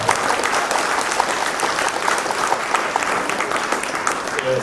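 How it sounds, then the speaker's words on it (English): An audience at a book fair launch for a book on Rastafari in the 21st century applauds steadily, a dense, continuous clapping from a sizeable crowd that holds even throughout. "Let's give them a round of applause."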